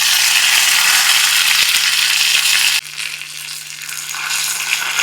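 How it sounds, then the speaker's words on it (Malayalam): Dried red chillies and curry leaves crackle in hot coconut oil with popping mustard seeds, a loud, dense sizzle that suddenly drops and softens halfway, then builds back slightly; no talking. "ഇനി ഇതിൽ വറ്റൽമുളകും കരിവേപ്പിലും ഇട്ടു."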